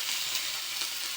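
Vegetables sizzling in hot oil tempered with black cumin, a soft, steady hiss and crackle that stays close and even for a moment, with no voices.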